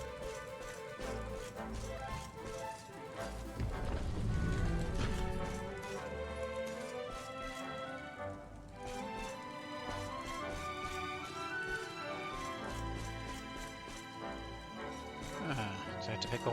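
Horse hooves clip-clop in Dragon Quest XI, a steady patter running beneath bright, busy in-game music through the whole stretch, with a person talking over it.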